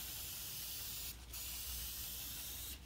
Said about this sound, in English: So we can make a nice wide spray like this.